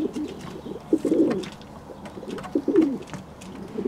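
Fantail doves coo in soft, low, rolling phrases that come in two or three bursts, close by, with faint chirps in the background.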